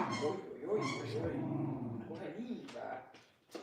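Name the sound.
dogs playing and yipping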